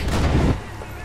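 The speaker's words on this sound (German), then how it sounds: "Ein Schuss, Headshot." A single loud, booming gunshot in the video game Max Payne 3, with a short decaying tail, heard alone.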